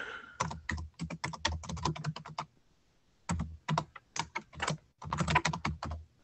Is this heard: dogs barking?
no